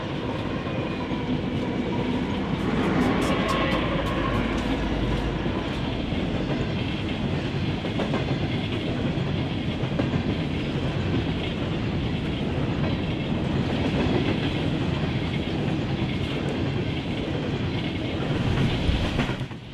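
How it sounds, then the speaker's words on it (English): An empty BNSF coal train rumbles past close by, steady roar with rhythmic clickety-clack of wheels over rail joints, continuing without a break. "An empty coal train with 10 units comes barreling through."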